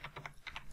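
Quick keystrokes on a computer keyboard, a short burst of about six close, crisp clicks in an uneven rhythm, with no voices.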